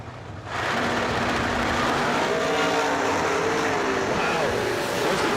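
A dragster launches on a drag strip and its engine leaps into a loud, steady roar that holds for several seconds after a brief quieter lead-in, with crowd and track noise mixed in.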